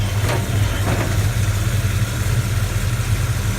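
Rebuilt 5.9 Magnum V8, pulled from a 1999 Dodge Ram 1500, idling in a 1972 Dodge Charger with a 5-speed, a loud close steady low rumble with an even lopey pulse.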